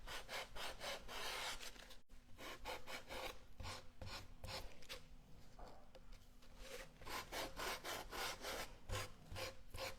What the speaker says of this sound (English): I'll use a 100 grit piece of sandpaper and just gently sand, not to damage my canvas, to remove the excess